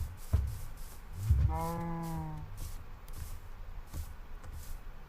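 A single low cow moo from Minecraft, clear and moderately close, set against soft ambient game background with faint thumps.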